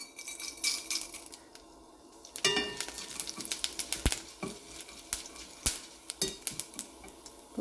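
Mustard seeds tempering in hot sesame oil crackle and sputter with sharp pops over a sizzling bed, joined by clinks of a utensil against the pan.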